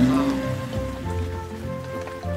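Steady rain patters and hisses without a break in a children's cartoon, with sustained tonal sounds layered over it.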